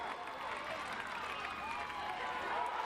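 Football stadium crowd at a Kansas Shrine Bowl game, a dense, steady wash of distant murmuring and cheering that rises slightly at the end, with a commentator-like voice woven in.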